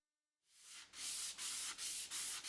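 Rhythmic sanding of wood, close and loud, with several back-and-forth strokes of scratchy rubbing and no voices.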